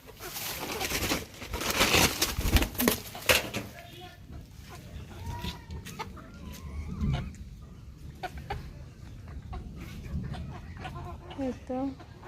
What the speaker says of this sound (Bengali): এই তো মুরগি আর এই যে এখানে